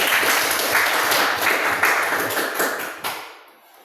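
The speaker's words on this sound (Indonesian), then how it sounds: "tepuk tangan dulu." A classroom of students bursts into loud, dense clapping that holds steady and then tapers off and fades out near the end, with no voices over it.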